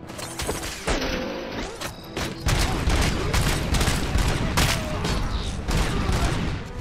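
Dense, loud gunfire erupts in the RoboCop: Rogue City shooter game, with a rapid volley of shots and clanking mechanical impacts filling the whole span.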